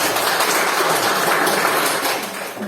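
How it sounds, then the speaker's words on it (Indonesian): Applause for fellow group members in a teacher-training class discussion session, a steady, dense patter of clapping that runs throughout and eases slightly near the end. "Tepuk tangan buat teman-teman."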